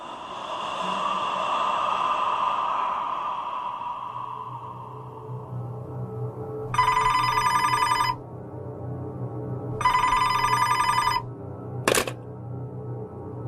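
A telephone rings at 3 a.m., sounding two clear, loud electronic bursts spaced a few seconds apart after a dim droning lead-in, followed by a sharp click.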